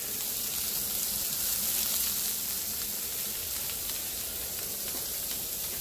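Brussels sprouts searing on a 36-inch Blackstone griddle outdoors, an even, bright, continuous sizzle with faint crackles, heard alone for about six seconds.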